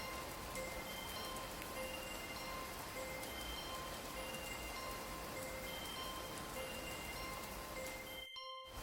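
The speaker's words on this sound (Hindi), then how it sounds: "कुछ देर तक कमरे में बारिश की आवाज के अलावा कुछ नहीं सुनाई दिया" Rain falls at night in a quiet room, making a soft, steady, distant patter that continues without a break and then cuts off abruptly near the end.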